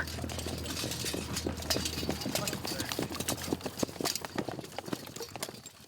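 Cavalry horses at a frontier army post, hooves beating out a dense, quickening clip-clop that grows sharper and louder as they gallop past, with a low engine-like hum early on.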